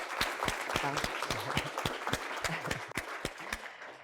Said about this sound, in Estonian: Nii et veel aplaus kõigile osalejatele.